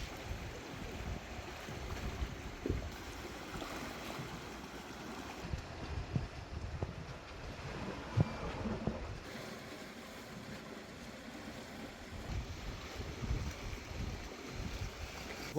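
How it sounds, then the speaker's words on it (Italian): Wind and low waves wash over a beach ahead of a summer storm surge on the sea, heard as a steady, moderately quiet rush with soft surges and no voices. "Se fate caso c'è un pelino più di vento, l'onda è ancora molto bassa"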